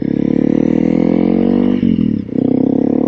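Honda CRF300L single-cylinder dual-sport motorcycle engine while riding, a loud steady thrum at easy revs that dips briefly as the throttle eases off, then resumes, close up with no talking.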